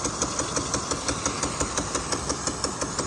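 Half-inch Rainbird 25 and Champion U61D impact sprinklers running, a rapid steady ticking rhythm of spray over a constant hiss of water.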